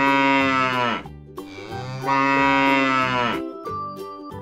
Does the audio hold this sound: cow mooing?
yes